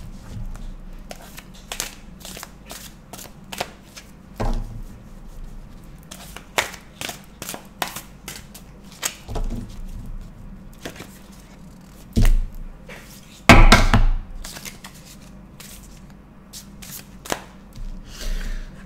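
Tarot cards are shuffled and cut by hand on a table: scattered soft riffles and taps, one louder flurry of card flicks near the end, close and otherwise quiet.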